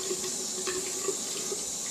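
Warm tap water running steadily into a sink to rinse a badger shaving brush, a close, even hiss and splash with faint small clinks.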